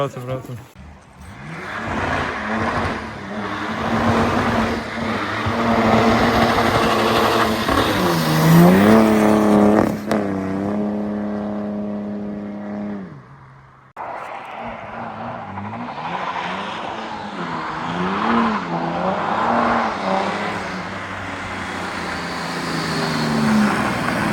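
A car on a winter drift outing revs hard as it slides, the engine pitch rising and falling with a brief cut before it roars again, close and loud, with voices talking over it.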